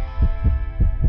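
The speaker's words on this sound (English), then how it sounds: "the little heartbeat's cute" Four soft, evenly spaced heartbeat thumps sound from the video game Monster Prom, low and throbbing over a steady musical hum.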